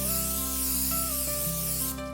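Cooking spray greases an 8x8 baking dish, giving a steady, close hiss that lasts the whole moment over soft background music.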